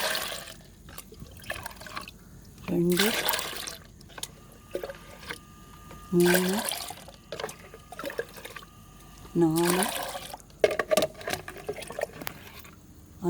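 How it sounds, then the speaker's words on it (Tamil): Water is poured in three separate bursts into a container to dilute liquid flower fertiliser, each splash a few seconds apart, with a voice counting between the pours. "அஞ்சு மடங்கு தண்ணி கலந்துடுங்க."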